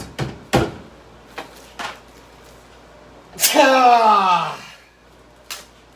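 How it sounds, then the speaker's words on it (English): A sneeze bursts out loudly mid-clip, a sharp nasal blast trailing off, surrounded by a few scattered soft knocks and small sounds. "Anyway, I'm getting the sneezes."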